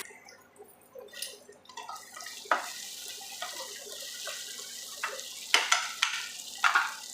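Tomatoes sizzle and get stirred in a hot pan while cooking for a drumstick leaf chutney: soft frying crackle with repeated scraping spatula strokes and sharper clinks near the end, close and fairly quiet.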